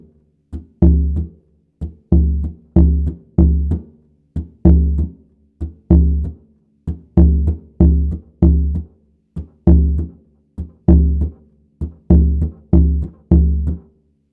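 A third surdo drum plays the Mangueira samba pattern: deep, booming strokes repeating in a steady rhythmic cycle of grouped hits, loud and close with no other sounds.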